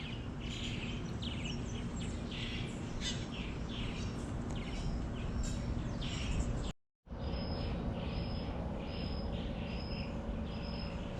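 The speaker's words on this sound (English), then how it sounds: "we've got tons of birds like these where we live as well, at our house. It's amazing to listen to them every morning." Birds singing around a house in Brazil, a steady layer of chirps and high repeated calls mixed with insect-like trilling, continuous and moderately close, with a brief dropout before the chorus resumes with sharp regular chirps.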